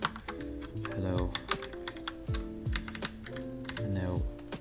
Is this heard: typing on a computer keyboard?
yes